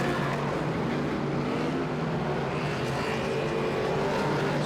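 Superstock race cars running a 15-lap feature race on a speedway make a loud, steady, dense engine roar that holds constant throughout, with no voices over it.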